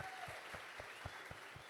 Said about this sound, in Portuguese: vamos dar umas fortes salvas de palmas a esse povo.